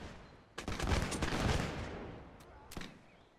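Volley of musket fire in the Mount & Blade mod L'aigle, a Napoleonic battle with British light infantry recruits: a dense, rolling crackle of many shots lasting over a second, then two sharper isolated reports trailing off.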